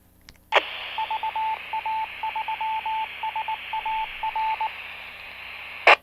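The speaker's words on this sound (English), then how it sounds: "That's Morse code. Saying VA3 SAR." An amateur radio repeater transmits its Morse code identifier for callsign VA3 SAR, a steady beeping tone of short and long dits and dahs over radio hiss, bracketed by squelch bursts at the start and end.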